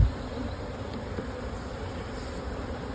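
Honeybees drone in a steady, dense buzz as they are shaken from upper hive frames into a temporary funnel during single brood chamber management, close and continuous throughout.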